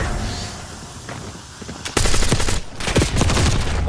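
Automatic gunfire in a shooter video game breaks out after a quiet stretch, a burst of rapid, loud shots with a few separate cracks toward the end.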